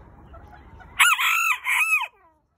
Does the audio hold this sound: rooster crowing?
yes